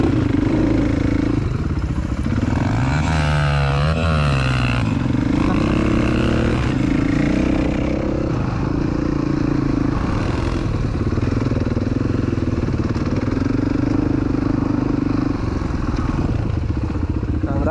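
A motorcycle rides along forest tracks, its engine loud and close throughout with steady droning and shifting revs, plus rattling clatter over the uneven ground.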